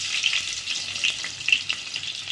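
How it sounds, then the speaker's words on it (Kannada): Onion sizzling as it fries in hot oil for a tempering, a steady bright crackle with small pops throughout and no talk. "ಒಂದು ಚಿಕ್ಕ ಗಾತ್ರದ್ದು ಒಗ್ಗರಣೆಗೆ ಈರುಳ್ಳಿ ಹಾಕೋಣ."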